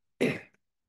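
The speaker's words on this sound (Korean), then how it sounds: "계속 좀 기침을 하고 있습니다" A single short, close cough from a man whose throat is still irritated after recovering from COVID, sharp and isolated in silence.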